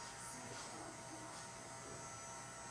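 A heat gun melting encaustic wax gives off a steady, even blowing whir with a faint buzzy edge, quiet and unbroken throughout.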